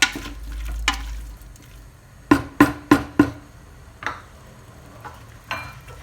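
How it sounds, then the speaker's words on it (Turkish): Green beans and tomato paste are stirred in a pressure-cooker pot, a spoon knocking the metal in a quick run of four sharp clacks among softer scraping and sizzling. "Onu da şöyle güzelce de karıştırayım."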